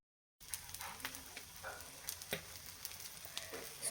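Egg-coated bread slices fry in a pan with a steady sizzle and small crackles and pops, heard close and alone.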